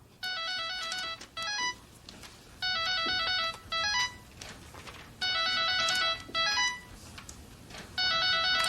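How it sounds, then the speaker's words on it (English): A cell phone plays its electronic ringtone in a sitcom scene, a bright repeating melodic pattern sounding in four evenly spaced bursts with short gaps of quiet between them. "That's my ring."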